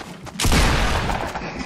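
A sniper shot in the Fortnite video game lands as a sudden loud boom with a long, booming tail, after a brief quiet moment.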